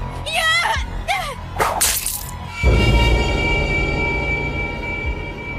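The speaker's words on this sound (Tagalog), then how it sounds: "hinaplit ko naman ang aswang ng buntot pagi" A stingray-tail whip lashes an aswang in a Filipino horror audio drama: a sharp, loud crack after a few vocal cries, followed by a sustained rushing, rumbling swish.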